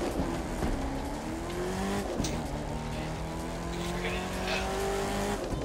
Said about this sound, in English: I'm doing a wheelie in a monster truck.